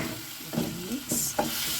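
Chicken curry with tomatoes, salt and soy sauce being stirred in a frying pan, a soft sizzle under scraping spoon strokes that come in a few uneven pushes.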